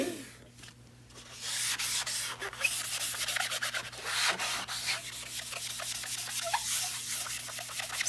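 Faint, steady squeaky rubbing as gilding wax is worked into a board to distress it, continuous scraping friction with no talking.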